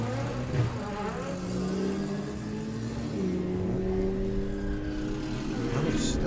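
Drag racing cars, a street-legal Audi S3 and a VW Beetle, accelerating at a sportsman nationals event, loud sustained engine roar with rising pitch bands and a shift partway through.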